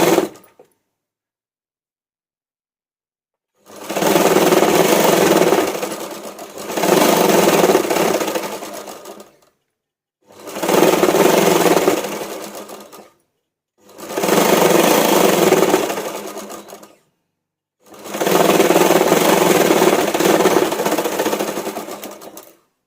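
Sewing machine stitching a V-neck blouse collar in five separate runs of fast, even whirring, each lasting a couple of seconds with silent pauses between, loud and close.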